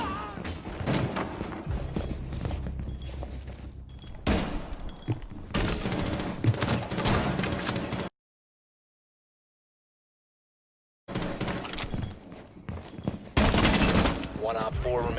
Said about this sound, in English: So I go through this wall, and I spray through here